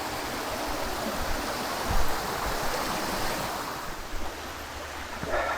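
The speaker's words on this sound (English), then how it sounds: "A little baby waterfall." Small trickling waterfall along a Southern California hiking trail, a steady broadband rush of falling water heard close up, with a faint wind buffet and no talking.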